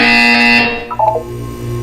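A loud, harsh electronic buzzer from the video game Portal 2 blares for over half a second and cuts off abruptly, followed by a few short tonal blips and a low hum.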